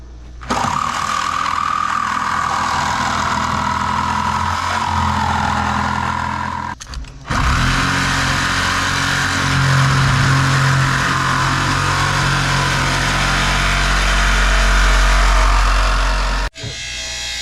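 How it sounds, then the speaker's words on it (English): Pump engine drawing usable oil out of an old excavated storage tank, a loud steady mechanical drone running almost without break, with a brief dip partway through and no voices. "We are now pumping out the usable oil"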